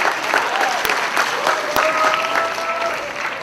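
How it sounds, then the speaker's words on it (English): An indoor audience applauds after a presentation at a prison-themed talk, a short burst of steady clapping from many hands with a few sharper claps standing out. "Let's give ADA Walsh another round of applause for his presentation."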